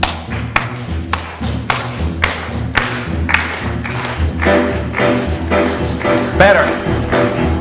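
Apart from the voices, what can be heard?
congregation clapping along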